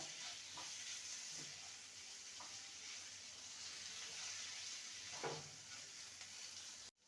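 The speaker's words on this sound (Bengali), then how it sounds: "এখানে গ্রেট করা আদা আর কাঁচা লঙ্কা কুচি আছে দিয়ে দেবো ভালো করে নেড়ে নেব" Grated ginger, green chilli and capsicum frying in hot oil, a steady close sizzle with occasional stirring scrapes, no voices.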